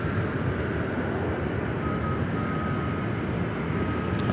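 A passenger airplane bound for Dallas Fort Worth, Texas, passes at LAX, giving a steady, continuous broadband engine roar at moderate level with no breaks or voices.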